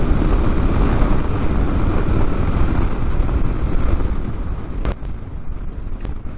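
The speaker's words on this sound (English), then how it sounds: "it's so windy and cold." Strong, cold wind near Yellowstone Lake buffets the microphone in a loud, continuous low rumble with gusty swells. Two sharp clicks cut through near the end.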